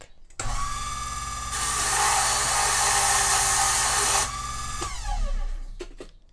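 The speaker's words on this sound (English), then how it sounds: "we're going to go ahead and put this under the little burr wheel and deburr it real quick" A small burr wheel on a locksmith's key machine whirs steadily up close, its pitch and intensity swelling for a few seconds while deburring a freshly cut key, then easing back before the motor spins down with a few faint clicks.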